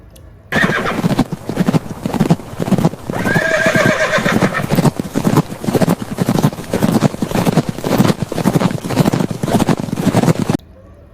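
Horse neighing and whinnying, mixed with rhythmic clip-clop hoofbeats, loud and close for about ten seconds with no talking.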